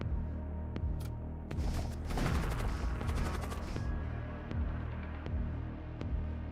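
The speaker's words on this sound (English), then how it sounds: "They have shot a warp missile." Rapid gunfire and booms in Void War, a Warhammer 40k-style starship combat game, as a warp missile is fired: dense bursts of shots in the middle, with sharp single cracks before and after.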